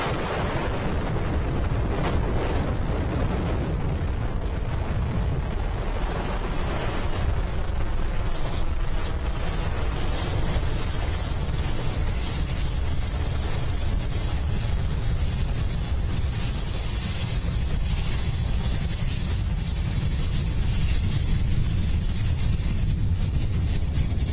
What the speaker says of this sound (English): Liftoff for Falcon 9, the world's first reflight of orbital-class rocket.